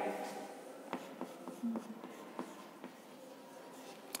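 Chalk or pen writing a word on a board in an English class, a quick series of faint scratchy strokes and taps in a quiet room.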